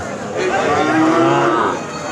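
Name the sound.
cow with calf mooing at cattle market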